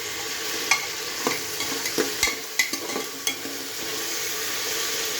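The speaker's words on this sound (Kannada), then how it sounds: "ಫ್ರೈ ಮಾಡ್ತಾಯಿದ್ದೀನಿ." Mint and peas fry in a pan with a constant bright sizzle, while a spoon stirs them in irregular scraping knocks, close and fairly loud, with no voices.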